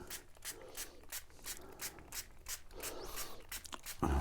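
A fine-mist spray bottle pumped again and again over a craft project, giving a rapid, even series of short close hissing bursts, then a soft thump at the end.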